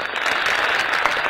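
Canned applause from a closing backing track, played on request during an Italian comedy show: a dense, steady wash of clapping at constant loudness, with no voices over it.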